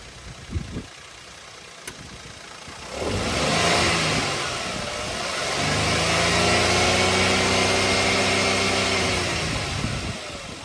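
A 2018 Maruti WagonR LXi petrol engine idles briefly, then is revved up strongly, holds a loud, steady high rev with rising and falling pitch, and drops back near the end.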